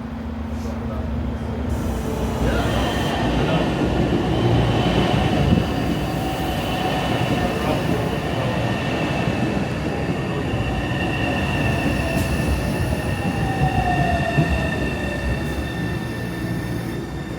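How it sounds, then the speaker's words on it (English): A Boston MBTA subway train arrives at rush hour with a loud, steady rumble close by, with metallic wheel squeals and high screeching tones running through the whole approach. "Here comes the train."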